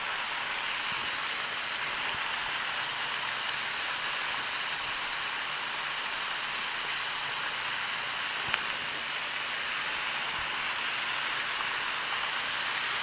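Frog legs frying in a skillet make a continuous broad hiss and crackle that holds steady throughout, with one faint tick partway through.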